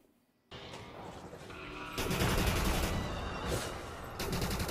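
Laser SMG firing in Elite Dangerous: Odyssey, a continuous, loud, dense burst of automatic fire against Thargoid drones, starting abruptly after a brief quiet moment and intensifying midway.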